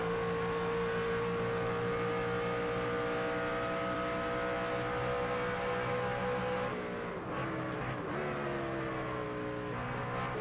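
A race truck engine in the NASCAR 25 racing game drones loud and steady at high revs, then dips and climbs back near the end as the truck slows and accelerates through a corner.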